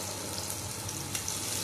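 Fish pieces frying in hot oil for a crispy fish fry, a steady, dense hiss and sizzle close up, continuous and even throughout, with no talk.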